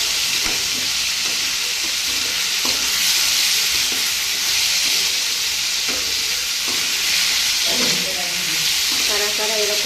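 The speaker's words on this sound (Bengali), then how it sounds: "আলুটাকে বেশ ভালো করে ভেজে নেবো, নেড়ে চেড়ে।" Diced potatoes fry in a pan with turmeric, a steady broad sizzle running throughout while a spoon stirs and scrapes in irregular bursts, close and fairly loud with no voices.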